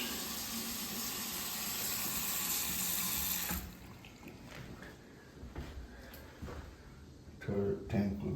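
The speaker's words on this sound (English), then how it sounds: "Faucet working." A bathroom faucet running water into a sink during a rental property inspection, a steady close rush that cuts off abruptly, followed by quiet handling noises.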